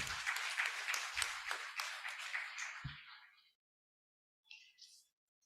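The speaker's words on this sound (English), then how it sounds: "Once again, a huge round of applause for CA Gaurav Garg, sir." An audience applauds a speaker at a Teachers' Day programme. The clapping is fairly faint and dense, tapering off and stopping after a few seconds, followed by near silence and a brief soft sound.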